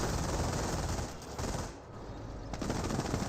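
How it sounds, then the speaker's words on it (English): An MG42 machine gun in the WWII strategy game Company of Heroes fires a continuous, loud rattle with a brief lull midway, set in a noisy battlefield with no speech. "Rifleman squad does receive a bit of MG42 fire now."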